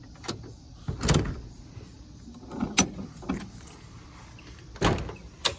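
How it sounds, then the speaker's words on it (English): Unlocking and opening the door of a race trailer: several sharp metallic clicks and clunks of the latch and handle, close up, spaced irregularly over a quiet background. "let me get the door unlocked here."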